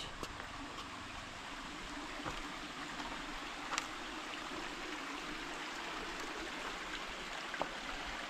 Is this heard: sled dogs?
no